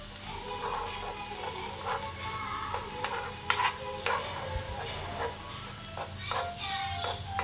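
Egg is stirred into fried rice in a pan, with a steady frying sizzle and repeated scraping strokes from the stirring. A faint voice is briefly audible beneath the cooking sounds.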